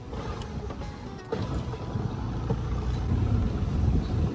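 A boat engine running rough on the water, a steady low rumble that swells slightly louder toward the end, heard alone with wind and no talk.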